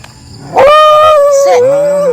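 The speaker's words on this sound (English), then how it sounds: "Another dog." A neighborhood dog gives one drawn-out, whining howl close by during a morning walk, steady and tonal for about a second and a half before its pitch drops and fades.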